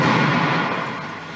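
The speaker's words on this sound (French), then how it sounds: "une explosion retentit" A suicide bomber's explosive vest detonates during a police raid, a single loud, heavy blast whose rumbling roar decays over about a second.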